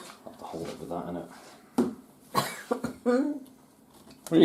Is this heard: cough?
yes